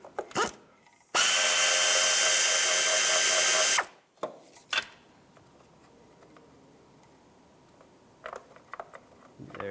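A power tool spins out a 10 mm timing cover bolt on a Lexus ES 300 engine in a single loud whirring burst of about three seconds, followed by faint clicks and handling noises.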